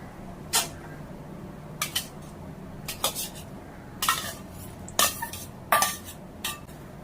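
A spoon clinks against a pot as anchovies are stirred into a boiling fish curry, a few sharp metallic knocks and scrapes spaced a second or so apart over a low simmering bed, close with no voices.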